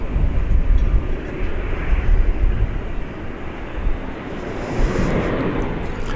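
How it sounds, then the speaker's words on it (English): A Viva Aerobus Airbus A320neo jet takes off at a large airport, producing a loud, broad low-frequency engine roar that swells and fades, mixed with wind buffeting on the microphone. "Viva Aerobus is headed to Monterrey, Mexico. It's an Airbus A320 Neo."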